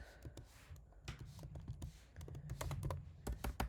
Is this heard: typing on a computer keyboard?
yes